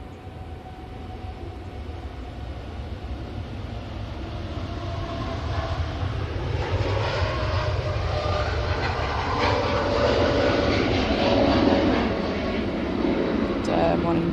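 Atlas Air Boeing 747 jet engines spool up for departure at Manchester Airport, a broad, sustained roar that builds gradually and steadily from a distance.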